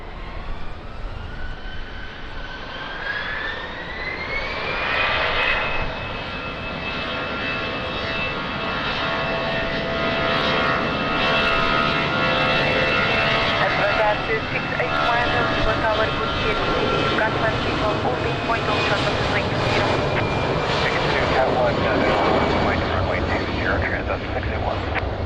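An airliner takes off from runway 20 at Lisbon Airport, its jet engines swelling into a loud, steady roar that holds for the whole stretch, with voices talking underneath.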